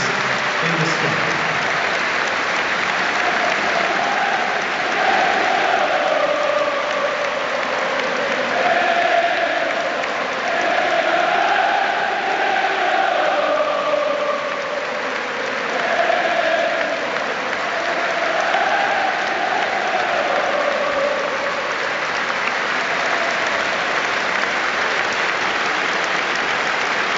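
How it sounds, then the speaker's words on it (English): Sustained applause from the stadium crowd at an Aston Villa versus Arsenal Premier League match in memory of former players, a steady, dense wash of clapping that continues unbroken and evenly loud throughout. "there will now be a funeral applause to remember our old enemies in the sky"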